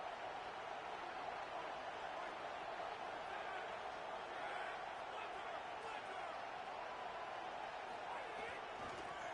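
A football stadium crowd roars in a steady, distant wash of cheering noise that holds throughout without a break.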